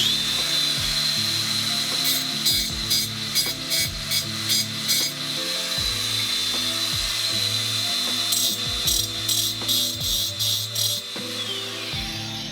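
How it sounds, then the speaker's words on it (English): A power tool works stainless steel scrap with an angle grinder, giving a steady high whine with bursts of rhythmic rattling and clatter over a low hum, fairly loud and close, with no talking. "So if you hit this with an angle grinder, it should spark."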